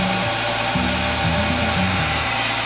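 A heat tool runs close and loud, warming the hose on a boat seacock of a Lagoon 38 with a continuous blowing drone and a slightly wavering hum.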